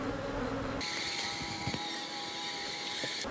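Honey bees buzz on a hive frame while a colony is being split, a close, steady droning hum that starts abruptly and holds without a break.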